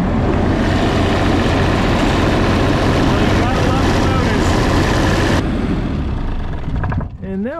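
An Onan CMQD10000 diesel generator running under a 6,000 watt load: a loud, continuous low engine drone that drops away near the end, leaving quieter sounds and a brief voice.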